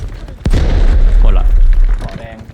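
An explosion in the video game Delta Force lands as a loud, sudden boom with a deep rumbling tail. Brief game sounds and faint voices follow.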